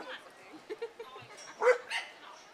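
Dogs bark at a minor league baseball game on Bark in the Park Day, a few short yips scattered over the background murmur, one louder bark standing out in the middle.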